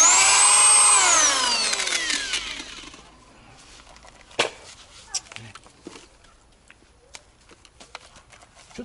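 A power polisher on Daewoo Matiz headlights whines loudly and then spins down over a few seconds, followed by scattered clicks and light handling knocks nearby.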